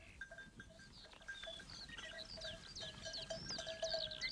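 Sheep bleat faintly in a valley pasture, a few thin wavering calls at a distance mixed with light bird chirping over a quiet outdoor background.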